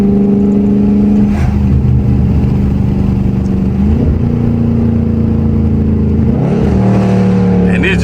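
A Dodge Charger or Challenger Scat Pack car engine with an automatic transmission drones loudly up close, revving twice with rising whines before settling back to a steady hum.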